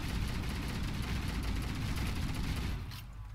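Sustained enemy gunfire in Halo: Combat Evolved, a dense, continuous rattle of automatic shots holding steady and loud for most of the moment before easing slightly at the end, with no talking over it.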